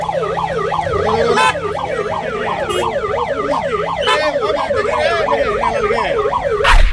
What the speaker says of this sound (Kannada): ಆಂಬ್ಯುಲೆನ್ಸ್ ಯಾರು ಬಿಡಿ ಒಂಚೂರು ಆಂಬ್ಯುಲೆನ್ಸ್ ಕಳಿಸ್ರಿ.